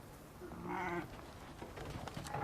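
Sheep bleating in a mountain setting, one harmonic bleat rising around the middle of a short quiet stretch with a faint outdoor background.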